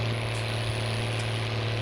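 Modded tractor engine in Farming Simulator 19, a steady droning hum with a deep tonal rumble that holds constant and even throughout, with no speech.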